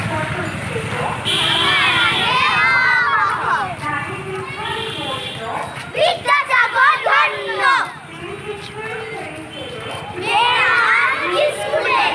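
Procession of students outdoors celebrating Vidyasagar's birth anniversary, a crowd of young voices chanting slogans in rhythmic bursts, loud and close, with a narrator talking over it.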